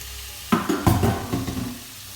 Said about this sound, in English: Now I'm gonna add the ostrich, get the meat cooking.